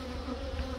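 Honey bees buzz steadily at a hive beside a flowering rapeseed field, a continuous close hum with a low drone that holds level throughout.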